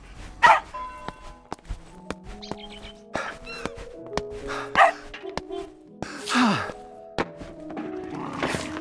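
Dog barking several times in The Adventures of Tintin: Secret of the Unicorn video game, short barks and yelps spread among game sound effects and background music, moderately loud.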